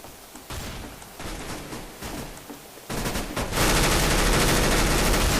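Heavy automatic gunfire from Counter-Strike: Global Offensive, with long, dense rattling bursts growing louder and more continuous toward the end, close and loud.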